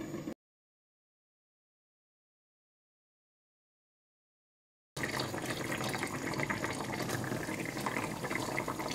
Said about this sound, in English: When you add the water, just make sure it kind of just covers the fish.